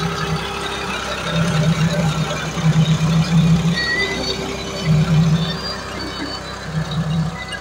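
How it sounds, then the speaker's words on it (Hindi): A Massey Ferguson 241 tractor pulls a soil-turning plough through a field, its diesel engine giving a steady low rumble that swells into louder, rougher surges under load at intervals. "241 ट्रैक्टर है जी, बढ़िया चल रहा है।"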